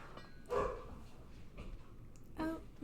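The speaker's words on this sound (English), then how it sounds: "Oh, my dogs are barking." Several dogs bark in short, sharp bursts a short way off, with a few spaced yaps over a quiet indoor background.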